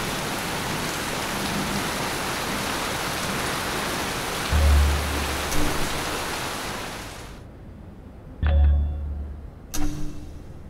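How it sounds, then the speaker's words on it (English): Rain in the video game The 39 Steps, a dense steady downpour hiss with a couple of low thuds, cutting off abruptly near the end and leaving faint dripping and short knocks. "The rain, it's just, I'm just going to sit here and listen to this."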